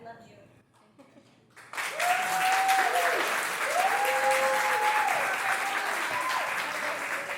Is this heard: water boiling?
no